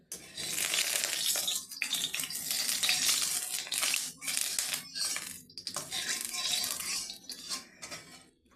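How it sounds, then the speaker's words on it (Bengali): Cauliflower frying in a little oil in a pan for a dal dish, heard as bursts of crackling, spitting sizzle and clinks of the pan that rise and fall in uneven waves close by. "ফুলকপিটাকে একটু ভেজে নেব ডালে দেওয়ার জন্য।"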